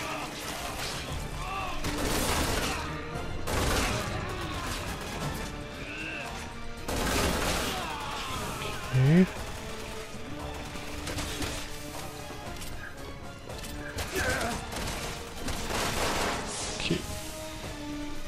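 Gunfire in the Resident Evil 6 video game, repeated loud bursts of shots spread across the stretch with crashes and mechanical clatter between them, game music and effects underneath.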